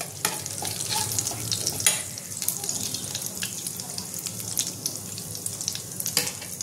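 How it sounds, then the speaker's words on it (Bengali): Vegetables fry in hot oil in a pan while being stirred, giving a steady loud crackling sizzle throughout with scraping and clinking of the utensil, and no voices. "এবার আমি এর মধ্যে একটু তেল দিয়ে দিচ্ছি। এবার আমি সবজিগুলো একটু ভেজে নেব।"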